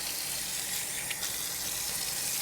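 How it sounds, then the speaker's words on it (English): Hot tap water runs steadily into a kitchen sink during handwashing before chicken is handled, a constant close hiss and splash with no voices. "I have to wash my hands because I'm dealing with chicken"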